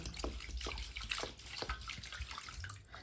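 Rice is rinsed in water by hand, with close, continuous sloshing and splashing, and small rattles and drips throughout.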